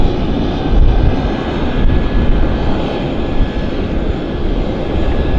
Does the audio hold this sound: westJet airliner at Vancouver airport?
yes